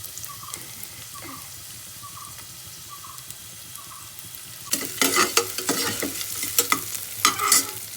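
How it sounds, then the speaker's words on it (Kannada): Chopped onion dropped into hot oil for a Coorg-style chicken soup. After quiet background music, a loud sizzle bursts in and continues with crackling and stirring. "ಈಗ ನಾನು ಆಯಿಲ್ ಬಿಸಿ ಆಗಿದೆ. ಒಂದು ಆನಿಯನ್ನ ಕಟ್ ಮಾಡ್ಕೊಂಡಿದ್ದೀನಿ, ಅದನ್ನ ಹಾಕ್ತಾ ಇದ್ದೀನಿ."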